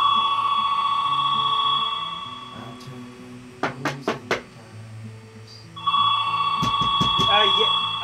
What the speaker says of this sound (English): First, I didn't understand it was the phone.